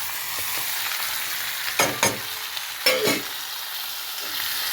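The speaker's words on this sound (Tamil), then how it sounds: "இப்போ இதெல்லாம் போட்டு நல்லா வணக்குறோம்." Chopped vegetables and onions sautéing in a pan, a steady close sizzle with a couple of louder scraping stirs of a spoon against the pan partway through.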